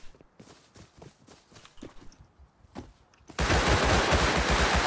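Gunfire in the survival game Rust: sparse near shots and footsteps for about three seconds, then a loud, dense burst of sustained firing that fills the rest of the moment.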